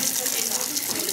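Liquid sample poured through a vacuum filter during a water-hardness gravimetric analysis, heard as a steady close rush of water with faint voices underneath.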